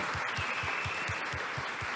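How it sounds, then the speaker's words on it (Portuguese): A church congregation claps together in a steady, rhythmic beat during a morning service, moderately quiet with a faint crowd wash behind the regular claps. "vamos aplaudir o Senhor pela vida deles"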